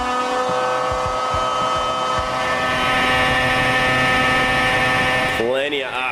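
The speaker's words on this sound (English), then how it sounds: "When they have an engine ready for a customer, they hook it up to their dyno and fire it up." A Pro Light KF kart racing engine on a dyno revs hard and steadily, a loud, high buzzing whine held near, then rising and falling in quick sweeps at the end as the throttle is blipped.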